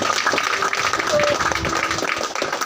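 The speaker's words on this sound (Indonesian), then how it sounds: "Kita tepuk tangan buat Tuhan" A gathering celebrating a women's football victory at the PON Papua games breaks into loud, sustained clapping from many people, a continuous dense roar with voices mixed in.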